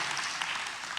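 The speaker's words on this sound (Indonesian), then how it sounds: "Tepuk tangannya yang luar biasa." Brief burst of dense clapping from a church congregation, loud and steady for about a second.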